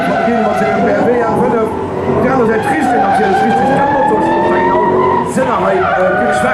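Drift car skidding during a Falken Drift Team show at an indoor expo in Luxembourg, with continuous tire squeal and a steady engine roar throughout, while an announcer talks over the din.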